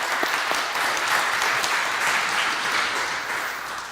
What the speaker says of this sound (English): So everyone give a big round of applause to Evan Lynn.